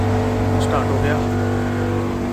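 A Tata urea-refilling truck's diesel engine idles steadily and close by right after starting, a constant low rumble with strong harmonic bands, while a person talks over it.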